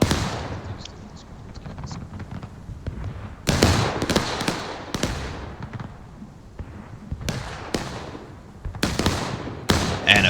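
Booming artillery cannon fire in a Civil War video game battle: repeated sharp blasts, some overlapping in quick clusters, others distant and softer, over a steady rumbling battlefield backdrop.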